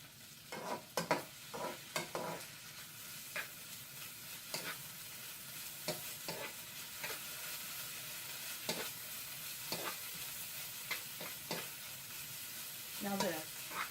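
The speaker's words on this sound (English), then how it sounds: "I'm moving it around quickly because I don't want it to burn in one spot." Ginger and garlic sizzle steadily in a pan with onions, with frequent scraping stirs of a utensil cutting through the constant frying hiss, close up and fairly quiet.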